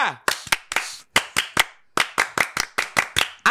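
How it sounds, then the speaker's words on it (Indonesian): A group performs the Indonesian scout clap, sharp unison claps in a quick patterned rhythm, a short burst, a brief pause, then a longer run of evenly spaced claps, with a voice calling out at the start. "Tepuk pramuka."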